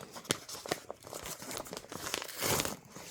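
Doll box packaging being cut open, heard as close crinkling and tearing of plastic and cardboard in several bursts, with a louder rustle near the end.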